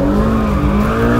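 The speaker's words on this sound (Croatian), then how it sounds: "možeš ga isto okrenuti pod ručnom" A car skids as it is spun around with the handbrake, a loud, steady tyre squeal over engine roar that holds for the whole moment with no talking.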